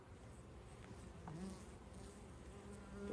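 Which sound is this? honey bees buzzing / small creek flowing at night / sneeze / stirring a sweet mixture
honey bees buzzing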